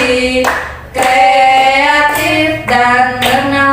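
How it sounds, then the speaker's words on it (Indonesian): A group claps in unison in a classroom in a rhythmic patterned chant-clap, loud and close, with several short bursts separated by brief pauses. "Tepuk tangan."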